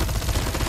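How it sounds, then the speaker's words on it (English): Legendary DLQ rifle fire in Call of Duty Mobile, a loud, dense burst of rapid reports packed into under a second, close and harsh with no talk over it. "The gun sounds insane."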